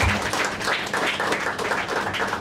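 Audience at a film trailer launch event for Kesari claps steadily: a dense, even wash of many hands close by, with no voices over it for the whole stretch.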